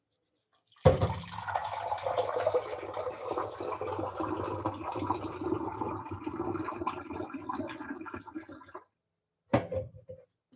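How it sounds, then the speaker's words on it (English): Water pours steadily into a kitchen blender jar for about eight seconds, a close, continuous splashing gurgle that stops abruptly, followed by a short second pour. "I got to put some water in here."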